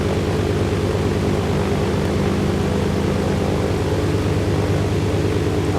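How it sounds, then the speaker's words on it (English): A plane engine in DayZ drones steadily at takeoff power, a dense continuous propeller roar with a broad noisy hiss, constant in loudness and with no voices over it. "hold the Q down, wait for the plane to gather speed. It's hitting takeoff speed."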